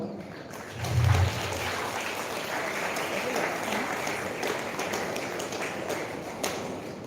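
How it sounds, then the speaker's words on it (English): A conference audience applauds to honor a college founder, a steady broadband patter of clapping that swells early and holds evenly across the clip, with a low thump near the start. "Please give a special applause."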